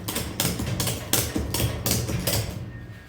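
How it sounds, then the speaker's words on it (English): A ratchet strap is cranked tight around a lawnmower tire to seat its bead, producing about six sharp, evenly spaced ratcheting clacks, close and fairly loud. "But if we ratchet strap this down"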